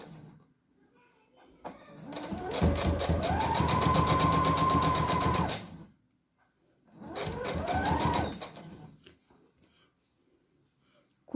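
A sewing machine stitches strips along the edge of a fabric brush-roll holder, running in a long steady burst of rapid needle clatter, then pausing and running again in a shorter burst, close and clear with no talking.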